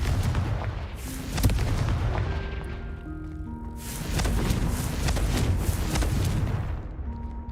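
A Confringo fire spell in the Hogwarts Legacy video game blasts repeatedly, booming and crackling bursts over a dense game soundscape with tonal music or effects, loud and close with no speech.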